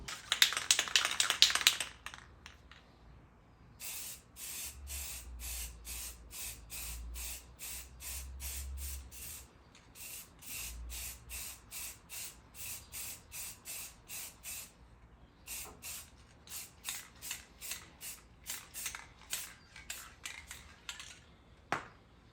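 Repeated short hissing bursts of spray paint on a custom switch panel for a Miata, in quick rhythmic pulses with pauses between, close and fairly quiet, plus a few low thumps.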